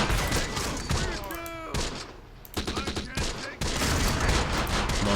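Tank destroyer gunfire in the video game Close Combat: a loud fusillade of shots and heavy thuds. The blasts come in dense bursts with short gaps between them, alongside a few scattered vocal sounds.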